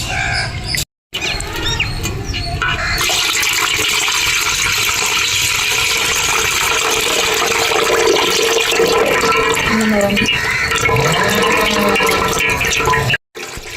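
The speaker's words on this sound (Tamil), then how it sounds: "இந்த தண்ணி ஃபில்டர் பண்ணிக்கலாம்" Steady rushing water poured through a strainer to filter it from mashed leftover rice, loud and close, with a brief pause near the start and another near the end.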